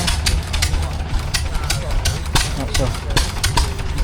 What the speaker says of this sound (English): That's an Allen Brothers engine there.